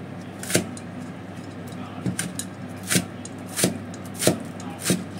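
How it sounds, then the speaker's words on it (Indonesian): Spring onions sliced with a knife on a cutting board, a series of sharp, evenly spaced chops about every half to one second, close and clear over a steady low room hum. "Kita iris seperti ini."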